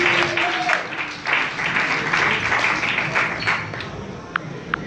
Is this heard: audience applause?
yes